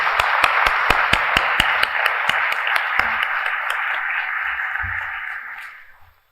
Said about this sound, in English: Ladies and gentlemen, please join me in a round of applause for Justice Cameron.